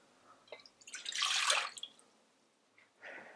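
Water poured into a pan for choux paste, a short close splash and trickle that swells for about a second and then stops, followed by a brief, fainter pour near the end.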